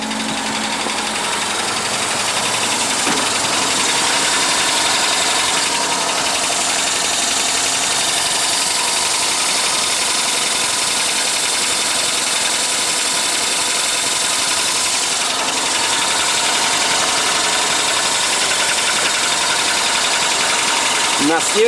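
A Polonez Caro Plus engine idles steadily and loudly for the whole stretch, with a constant rumble and faint ticking; a voice speaks over it now and then.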